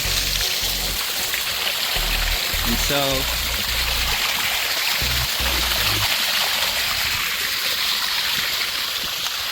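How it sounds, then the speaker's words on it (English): Heavy water rushes into a fully submerged drainage pipe at a backyard dam, a steady loud broadband roar filling the whole clip while someone briefly speaks near the start. "Struggling to keep up with the amount of water. It's a lot of water"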